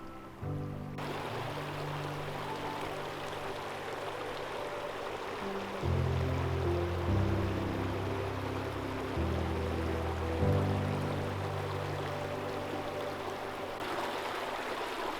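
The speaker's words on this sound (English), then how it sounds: "We've got the creek on one side" A creek flows beside a trail next to a big grassy opening in the Pecos Wilderness, giving a steady, close rushing wash of water with a faint low drone underneath and no voices.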